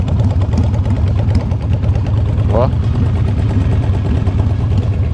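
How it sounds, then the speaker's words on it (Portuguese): Yamaha Virago 535 motorcycle idling nearby, a steady low rhythmic thump that continues throughout, with a man's brief exclamation over it. "Olha a lenta dessa moto."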